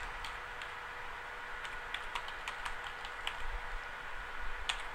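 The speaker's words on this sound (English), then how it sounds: "I'm using the left arrow on my keyboard to just tab across." Keys tapped one at a time on a computer keyboard while working in an Excel spreadsheet, faint scattered clicks at an uneven pace over a steady background hiss.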